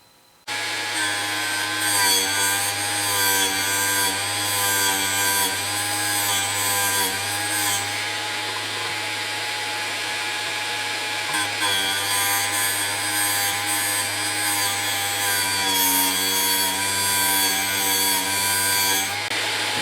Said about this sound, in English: I'll move it up against the wheel, and when I turn it on I will be rotating it like this